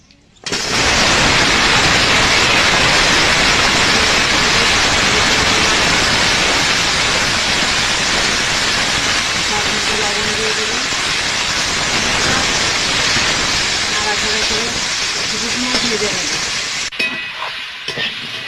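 Broccoli and potato fry in hot oil in a wok, a loud, steady, dense sizzle that runs continuously and fades slightly at the end.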